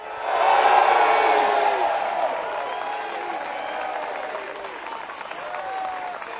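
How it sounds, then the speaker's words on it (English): Crowd at the final round of a disc golf tournament, the MVP Open at Maple Hill, applauding a player in a loud burst of clapping with whistles and whoops that gradually settles into steadier clapping. "Give it up for Vinny Calvin Heimberg"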